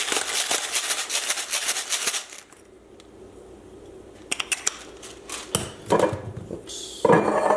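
Plating a steak dish with mashed potatoes and sauce at a home kitchen: clattering dishes and utensils in bursts, with clinks and knocks of cutlery against plates, a quiet pause in the middle, then more scattered clanks.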